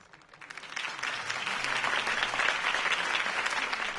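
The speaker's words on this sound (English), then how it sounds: "could have heard that applause" Crowd applause after a campaign speech in the Batman Telltale video game, a dense steady clapping that swells in over the first second and holds loud, no talk.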